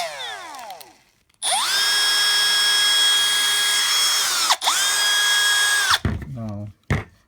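A Milwaukee M12 Fuel brushless 12V hammer drill/driver 2404 spins up to a loud, steady high-pitched motor whine, runs for about three seconds, dips briefly, then whirs again for over a second before stopping.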